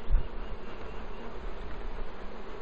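Honey bees swarm around an open top bar hive, their steady droning buzz filling the air close by with a constant, even hum and no voices.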